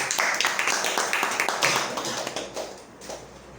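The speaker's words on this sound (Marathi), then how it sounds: "अशासाठी पण एक टाळ्या झाली पाहिजे" Applause at a BMP training session, a crowd clapping steadily and densely for about two and a half seconds before it thins and fades.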